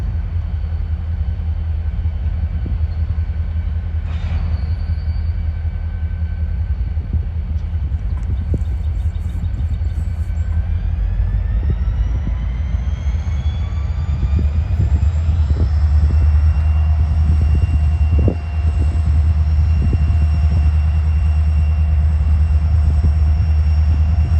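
A heavy freight train with covered hoppers rumbles past at close range, with a deep continuous roar and a rising tonal whine partway through. No talking.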